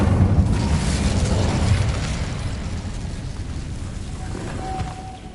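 Fire spell cast in Hogwarts Legacy, a rumbling whooshing burst of flame that swells then slowly fades, with a brief high tone near the end.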